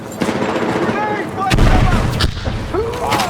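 In the Battlefield 6 campaign, gunfire and booming blasts crack through a loud combat scene, with sharp shots and a heavy explosion rumbling underneath, while voices shout over the action.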